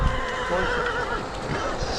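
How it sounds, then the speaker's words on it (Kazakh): A horse at the Sokuluk livestock market gives a loud, close whinny that wavers across the whole two seconds, over a busy outdoor background. "Мына жылқы келеді."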